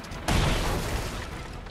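A sudden heavy boom and crunching impact as a ship is struck and broken up in the Sea of Thieves pirate game, followed by a short rumbling, crackling decay.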